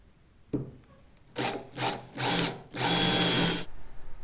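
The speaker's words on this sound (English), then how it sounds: "take our drill bit and screw into our freshly painted tailgate" A power drill whirs in four bursts, the last one longest, driving a screw into a freshly painted 1977 C10 truck tailgate; close and fairly loud, with no talking.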